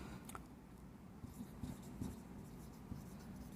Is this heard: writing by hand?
yes